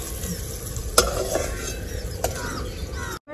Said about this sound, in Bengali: আমি বিনসগুলো দিয়ে দিব তেলের মধ্যে।